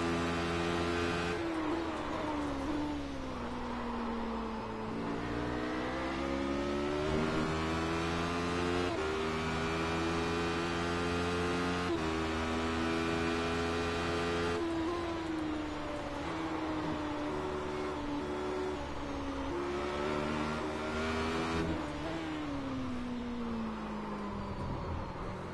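A race car engine in the iRacing simulator drones loud and steady, its pitch climbing through gears with brief dips at each shift as it pulls down a straight.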